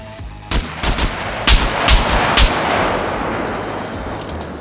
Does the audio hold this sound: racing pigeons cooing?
no